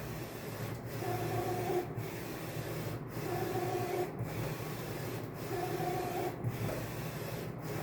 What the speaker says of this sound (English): I figured I'd run it slow, give you the far extreme what it's going to take.